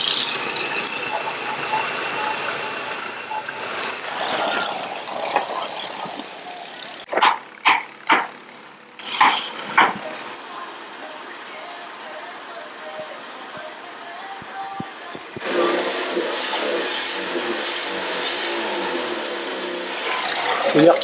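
A boat engine hums steadily while towing a floating house on the Tonlé Sap lake in Cambodia. A dog barks a few times midway, and the motor noise swells louder and rougher near the end.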